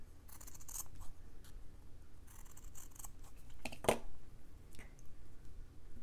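Scissors trim a fabric scrap in short snips and crisp clicks, a handful of quiet close cuts spread over a few seconds with no talking.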